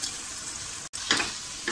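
Masoor lentils and rice sautéing in a pan give a steady soft sizzle, broken by a brief gap and then a couple of louder stirring scrapes, with no voices.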